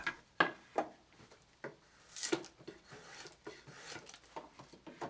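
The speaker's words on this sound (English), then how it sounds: "Now it is processed with a draw knife on all sides." Draw knife shaving a raw wooden shingle clamped on a sawhorse, a series of close scraping, rasping strokes in an uneven rhythm with a few sharp knocks, fairly faint and without talk.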